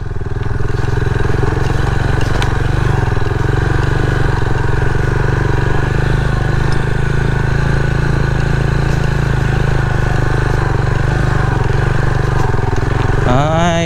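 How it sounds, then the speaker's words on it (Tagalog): Rusi Class motorcycle engine labouring steadily on a rough, slippery low beach road near Cabongaoan Beach, Burgos, Pangasinan, a loud continuous close drone with faint talk in the background. "Hirapan yung motor dito kapag yung mabababa."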